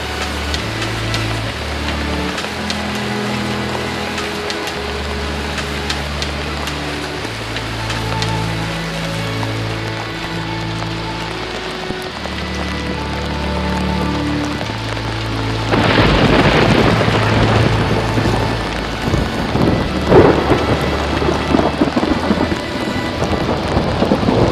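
Steady, heavy rain falls on a Kedarnath mountain path, with low rumbling and a sustained musical bed underneath. The downpour swells louder in the second half.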